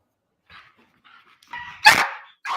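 Police K9 dog barking at a traffic stop, a few short yips building into one loud, close bark, then another bark starting as the sound cuts off.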